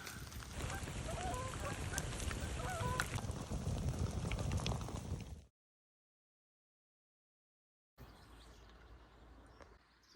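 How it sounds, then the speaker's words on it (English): Geese and ducks calling at dawn beside a castle ruin on a remote Scottish island after a night of heavy rain, a busy, continuous chorus of honks and quacks at moderate distance, cutting out briefly then returning more faintly. "All I've heard all night is the geese and the ducks."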